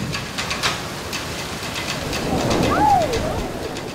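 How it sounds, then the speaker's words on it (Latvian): Heavy rain falls during a river rafting trip in Bali, a steady dense hiss that swells slightly toward the end, with a brief whistle-like tone cutting through. "Bet trakais lietus un pērkonis to kompensēja."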